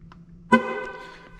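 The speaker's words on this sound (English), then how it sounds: "every time you hear the horn honk, that means one's set" A single short car horn honk from a Pontiac G8, sharp and fairly close, ringing out briefly over quiet background.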